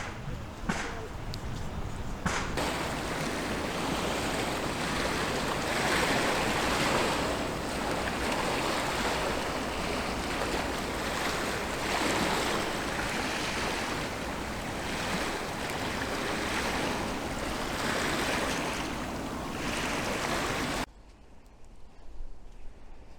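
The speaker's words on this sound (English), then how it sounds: "I'm by the sea" Sea waves wash steadily against the coast near North Queensferry, a broad continuous surf hiss with wind buffeting the microphone, lasting most of the stretch before dropping away abruptly near the end.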